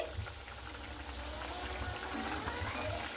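Fried puti fish simmering in a mustard gravy in a pan, giving a soft, steady bubbling that stays faint and continuous with no talking.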